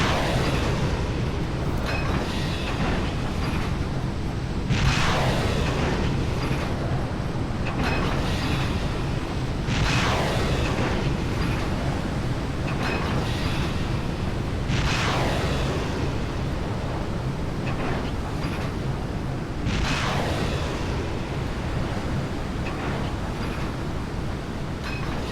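Missiles launching in a salvo and return fire from Russian ships in the naval combat game Sea Power, pitting a US Iowa battleship against a Soviet Slava missile cruiser: repeated whooshing launches roughly every five seconds over a constant roaring, windy rumble.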